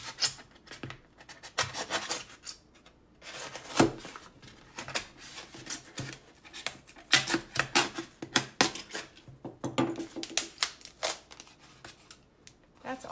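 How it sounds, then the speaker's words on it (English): Steak knife sawing along a marked line around a hollow craft pumpkin, a dense run of short scraping, rasping strokes with irregular rhythm, close and moderately loud, with no talking. "just go ahead and cut along that line all the way around."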